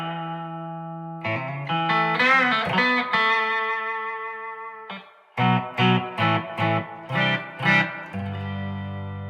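A Stratocaster played through a Splawn Quick Rod distortion pedal from Tonehammer rings out sustained, heavily driven chords, then a series of short, punchy chugged hits before a final held chord.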